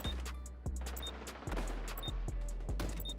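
Gunfire in a shooter video game, repeated sharp shots in quick bursts with thumping low impacts, loud and close, spread across the whole stretch.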